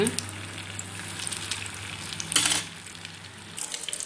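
Susyam dumplings made from idli batter fry in oil over a low flame, with a steady close sizzle, a brief louder surge as they are turned over midway, and light utensil clicks.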